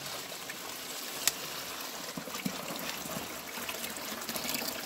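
A mineral water spring trickling in a thin, steady flow, faint and fairly distant, with a few soft clicks and splashes scattered through.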